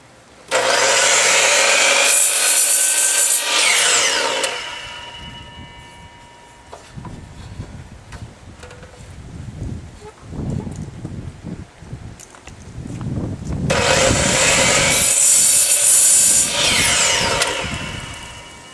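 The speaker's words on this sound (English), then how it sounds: "This DeWalt cutoff saw has a feature where you can set the depth of the saw blade" A DeWalt cutoff saw shrieks loudly through wood in two separate cuts, each a few seconds of harsh high whine, with quieter scraping and handling noises between them.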